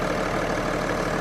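BMW 335d E90 diesel engine at around 100,000 miles, idling under an open hood; a steady, close, even mechanical rumble with no talk over it.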